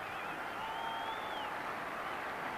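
Kent cricket crowd applauds after a fast bowling over, a steady, distant wash of clapping with no talk.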